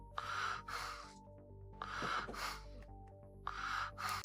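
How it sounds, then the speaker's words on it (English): A man breathes heavily in loud, rhythmic bursts of gasping inhales and snorting exhales, three clear cycles over a steady low tonal background. "he breathing heavy"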